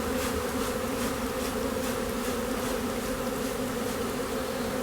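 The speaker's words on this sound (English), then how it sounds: "There sure are a lot of bees" A large swarm of honeybees hums in a loud, continuous drone around a hive, close and steady with no voices.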